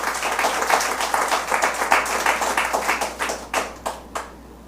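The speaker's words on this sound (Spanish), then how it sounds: "Denle un aplauso al Señor." Church congregation clapping in a fairly close, lively burst that starts dense and thins into a few separate claps before stopping.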